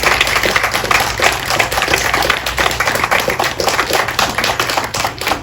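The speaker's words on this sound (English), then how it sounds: "could we have a round of applause for all the PSS staff?" An audience at a toy drive press conference claps for the PSS staff, with a steady, dense round of applause that carries on evenly throughout, the many individual claps blending into a continuous patter.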